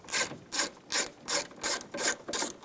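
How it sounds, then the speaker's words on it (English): A 10mm socket ratchet loosens nuts on the window clamps of a 2002-2009 Chevy Trailblazer, sounding as seven quick, close bursts of ratcheting clicks in an even back-and-forth rhythm. "Use a 10mm socket. You want to loosen up the nuts that secure the clamps for the window."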